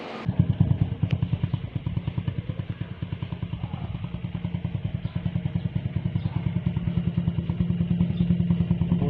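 A Motor Star motorcycle engine runs steadily near the microphone, its rapid pulsing exhaust beat holding even throughout with a slight rise toward the end.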